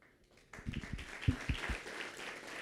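An audience at a social progress forum begins clapping after a quiet moment, with loose, uneven claps building into scattered applause that stays fairly faint.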